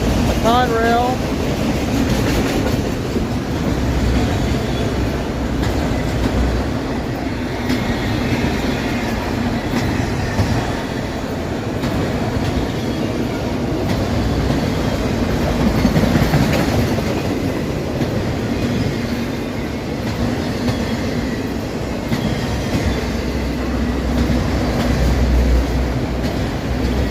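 A CSX freight train of empty, graffiti-covered autoracks, with a Conrail car among them, rolls steadily past a station up close, a continuous loud rumble with wheel clatter, while someone speaks briefly over it.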